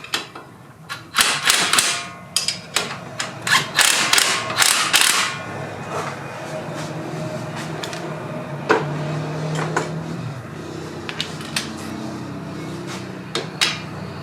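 Nuts are threaded by hand onto a Nissan Altima front strut, with a quick run of sharp metallic clicks and clacks early on, then sparser taps and rattles.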